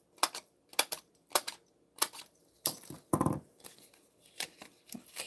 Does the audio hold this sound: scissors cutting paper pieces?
yes